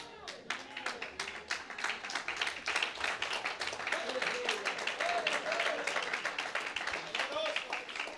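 Scattered congregation applause during a sermon: individual sharp claps from a modest group, uneven and somewhat distant, fairly quiet, with a low hum beneath.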